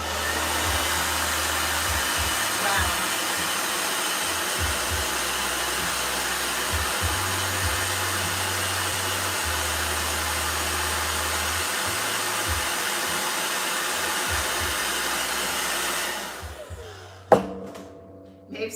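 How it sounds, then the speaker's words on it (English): A blow dryer roars steadily and loudly for about sixteen seconds, a constant rushing whoosh with a low motor drone, then cuts off abruptly, leaving a few small knocks. "Blow dryer."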